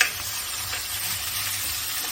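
Pork frying in a pan alongside rayo saag, a steady close sizzle and crackle of hot oil that holds continuously for the whole stretch, loud and even with no talking.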